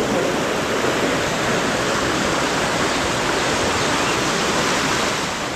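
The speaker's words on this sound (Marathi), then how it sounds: "तिकडे भुयार आहे, भुयाराखालून तिकडून पाणी येतंय सगळं." Water rushes out from beneath a tunnel at the Pokharbav Ganesh temple in Dabhole, a steady, loud, broadband roar like a small waterfall that continues without a break.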